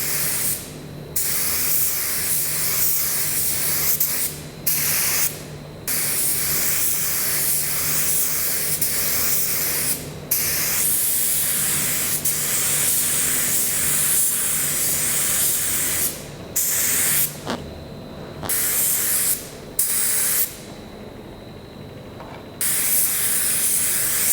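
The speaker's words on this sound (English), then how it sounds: "Okay, so I've sprayed the 2K black." 2K black auto paint sprays from an aerosol can in a series of bursts, a loud, close hiss repeatedly starting and stopping with short gaps between passes.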